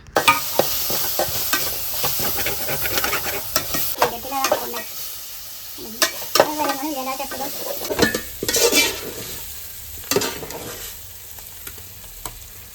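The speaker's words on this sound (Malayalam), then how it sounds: "വറുത്ത് പൊടിച്ച് വെച്ച സവാള നമുക്ക് ഈ ഒരു ടൈമിൽ ഇട്ട് കൊടുത്തിട്ട് നന്നായിട്ട് അത് മിക്സ് ചെയ്ത് കൊടുക്കാം" Ground fried onions are stirred into a sizzling chicken biryani gravy of ginger, garlic, green chilli and tomato, with a spoon scraping and clinking against the pot over a continuous frying hiss.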